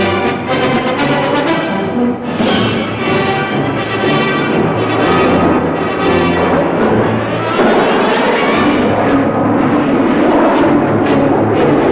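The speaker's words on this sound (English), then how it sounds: "The Royal Air Force Red Arrows skyrocketing into their rollbacks." Royal Air Force Red Arrows jets roar past low and fast at over 400 miles per hour, producing a loud, sustained rushing engine noise with rumbling surges across the whole stretch.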